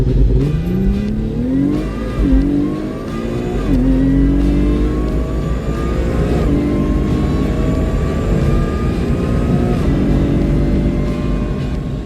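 Supercharged car launching hard down a drag strip on street tires, a loud close engine roar with rising pitch sweeps as it revs through gears, sustained for the whole stretch.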